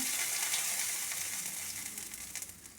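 Panch phoron whole spices, dried red chili and bay leaf sizzle steadily in hot oil for a vegetable curry, a close, bright crackling hiss that eases slightly toward the end, with no voices.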